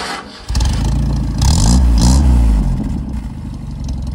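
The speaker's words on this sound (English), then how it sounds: "Here's the startup. And this is a cold start." A 1977 Datsun 620 pickup engine cold-starts with a grinding starter, catching at about half a second and revving up loudly with clattery mechanical noise, then settling into a rough, steady idle close by.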